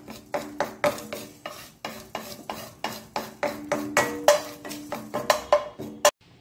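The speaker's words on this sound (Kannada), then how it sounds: "ಮೆಂತೆಕಾಳನ್ನು ಜಸ್ಟ್ ಒಂದು ಚೂರು ರೋಸ್ಟ್ ಮಾಡ್ಕೊಳ್ತೇನೆ." Fenugreek seeds dry-roast in a pan with no oil, a spoon scraping and stirring in a quick steady rhythm, each stroke a crisp rattling rasp up close, with light clinks against the metal.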